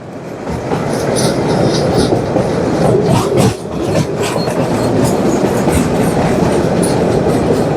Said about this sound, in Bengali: সম্পূর্ণ ট্রেনটা দেখা যাচ্ছে